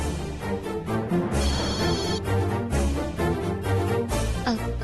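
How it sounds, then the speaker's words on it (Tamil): Telephone ringing in a home setting, a warbling electronic ring that repeats in bursts over a few seconds, fairly loud against a background of music. "என்ன பார்வதி, ஏன் ஃபோன் எடுக்க இவ்வளவு நேரம்?"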